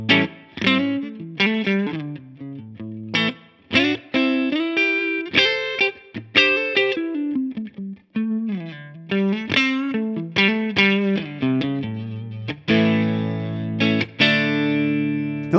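An electric guitar on its neck pickup runs through a Tonex capture of a Boogie California Tweed 6V6 amp, playing a busy lead line of picked notes and bends that ends on a sustained chord, loud and upfront with no voices.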